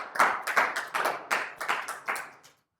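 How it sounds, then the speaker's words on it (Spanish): A church congregation claps together in a steady, rhythmic burst of about eight loud, even beats over two and a half seconds, with no talking, before the clapping stops abruptly. "Denle un aplauso al Señor."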